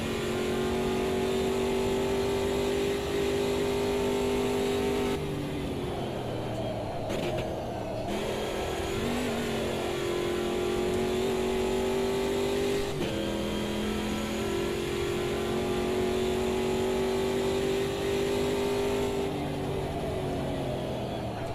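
Race car engine in the sim racing game Automobilista 2 holding a steady high drone, with a few gear-change dips and a rising push as boost kicks in, loud and continuous without talk.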